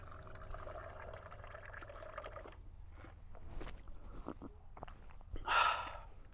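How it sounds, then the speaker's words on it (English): Water pumped from a spout in the back of a Land Rover LR4 into a cup, with faint trickling and small clicks building to a brief louder splashing pour near the end, close by and without speech. "at the push of a button, I have running water in the back of the vehicle"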